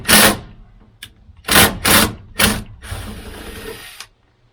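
A ratchet or wrench removes the top nut on a 2020 Toyota Tacoma during a bed stiffener install, giving a few loud, close mechanical clicking bursts followed by a longer rasp.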